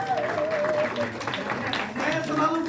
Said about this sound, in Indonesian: Tepuk tangan buat Bu Reni Bapak Ibu